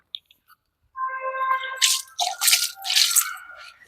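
Water pours onto a potted plant in a home garden, a splashing, trickling flow that starts after a moment of quiet and continues with uneven gurgles and drips, close and fairly loud, no voices.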